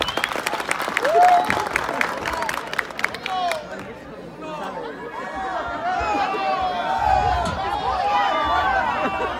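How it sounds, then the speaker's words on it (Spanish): Crowd at a tournament applauding and cheering, bursts of clapping with chatter and whistles mixed in, moderately loud and steady. "Fuerte el aplauso, solo aplauso."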